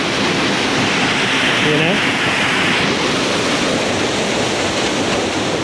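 Cascade Falls in Mill Valley pours hard after rain, a loud, unbroken rushing roar of water close by, with a voice speaking briefly over it.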